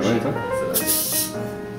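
Sparkling wine bottle being eased open, the cork released gently with a soft breathy hiss of escaping gas rather than a pop, while people talk close by.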